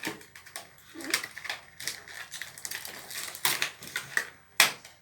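Plastic lid of a Büyümix fruit yogurt container being pried open with difficulty, giving a run of close, sharp crinkling and snapping crackles with a few louder pops near the end, no speech.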